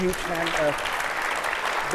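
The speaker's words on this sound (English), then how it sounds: "Let's give the panels a huge hand, big" Conference audience applauding a panel, a steady wash of claps with a voice speaking briefly over the start.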